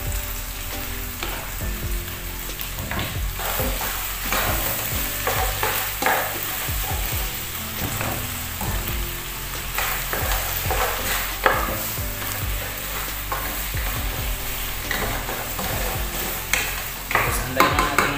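Chicken cooked with shrimp paste (bagoong) sizzles steadily in a pan while a utensil stirs and scrapes, producing repeated metallic clinks over a continuous frying hiss throughout.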